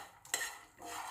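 Makhana (fox nuts) are roasted and stirred in a pan, with a utensil scraping and clinking against the metal over a soft dry rustle. The sound is quiet, close and brief, with no voices.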